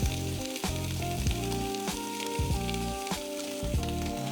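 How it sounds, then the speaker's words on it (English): Bacon and sausage hit a hot soup pot and fry with a loud, continuous sizzle. Repeated clanks and scrapes of stirring run throughout, with steady humming tones in the background and no talking. "the first thing we wanna do is cook our bacon and sausage. And our pot's already hot."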